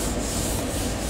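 Body filler is being sanded on a 1961 Chevrolet Apache Suburban, giving a steady, close, continuous rough rubbing with no talk.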